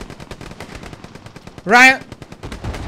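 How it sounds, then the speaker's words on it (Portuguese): Rapid automatic gunfire in the World War II shooter game Hell Let Loose crackles in steady, repeating bursts throughout, loud and close, with a brief shouted voice cutting in partway through. "esse tiro aqui é na gente"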